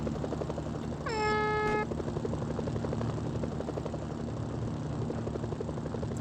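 An MD-500 helicopter in a video game drones steadily with a constant rotor and engine roar throughout, and a brief tonal horn-like alert sounds near the start.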